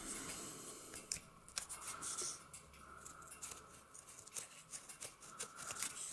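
Scissors snip through paper in a series of quick, irregular cuts, close and fairly quiet, with light rustling between snips.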